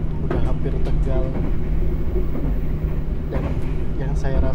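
An economy-class carriage of the Jayabaya train rattles and roars noisily along the line near Cirebon and Tegal, a constant loud clatter with passengers' voices murmuring underneath.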